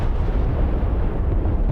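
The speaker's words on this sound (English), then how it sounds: "Explosion." A heavy explosion booms in a naval battle game between Chinese and Russian carrier groups, a dense, loud, rumbling blast that fills the whole short moment with no voices over it.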